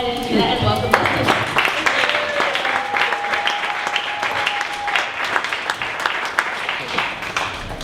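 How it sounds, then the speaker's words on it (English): A conference audience claps and applauds to welcome a presenter to the stage at a morning startup pitch event, steady dense clapping lasting several seconds with a faint whistle-like tone partway through. "you all get up and give them a warm round of applause"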